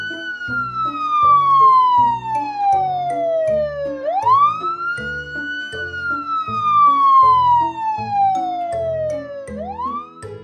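An emergency gas service vehicle's siren wails in long falling sweeps, each dropping steadily and then jumping back up, loud and close, with a rumbling engine underneath.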